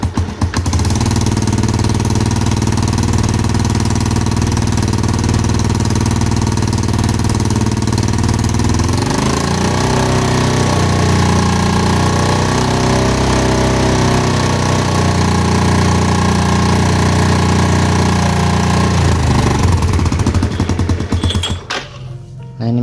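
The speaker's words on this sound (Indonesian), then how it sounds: "coba kita tarik gas," A scooter-type automatic motorcycle engine, checked for battery charging, idles steadily, then the throttle opens midway and it revs up to a higher, sustained pitch before dropping back and cutting off near the end.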